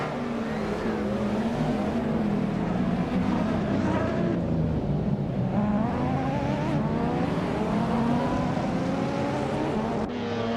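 Racing cars in a video game race: loud, continuous engine whine that climbs and dips in pitch as the cars rev and shift, with several engines overlapping.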